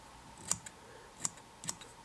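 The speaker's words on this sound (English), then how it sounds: "I'm going to trim the top of the fly first, nice and flat." Sharp scissor snips trimming an EP Tarantula crab permit saltwater fly, three crisp close cuts spaced about a second apart with a faint click after each, over quiet room tone.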